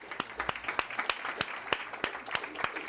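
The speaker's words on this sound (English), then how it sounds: "let's give them a round of applause" At a mayoral press conference, a small group gives James and Stuart Brinker a round of applause, a sparse, distinct series of individual claps at an uneven rhythm, fairly close.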